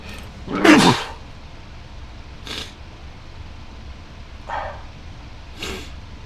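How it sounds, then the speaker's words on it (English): A single loud sneeze bursts out near the start, followed by a few fainter, brief noises in an otherwise quiet room. "Big sneeze there."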